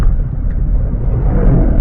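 A vehicle engine drones loud and close, a steady low rumble on a climbing bend while waiting to overtake a truck, with no voices.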